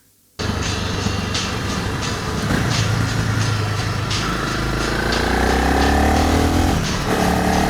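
A Honda CRF300 Rally motorcycle rides through the Southern Highlands of New South Wales, its engine droning steadily and close, rising in pitch as it speeds up, over wind and road noise.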